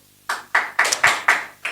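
A congregation at a church sermon claps hands: about six sharp, evenly spaced claps in a steady rhythm, close and fairly loud, with no talk over them.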